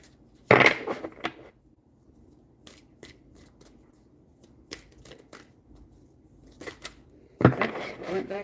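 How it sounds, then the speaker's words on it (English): Playing cards riffle-shuffled left-handed at a table: two loud crisp riffles at the start and end, with soft scattered taps and card handling between them, and a faint voice in the background. "So now I'm sitting here shuffling left-handed."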